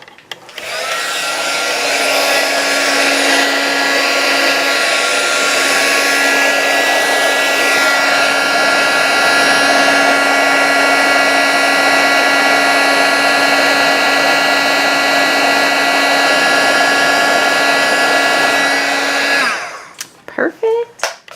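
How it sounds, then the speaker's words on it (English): Embossing heat tool blowing hot air over a stamped card, a loud steady whirring blast that runs unbroken for about nineteen seconds, then cuts off abruptly. "let's bring in our heat tool"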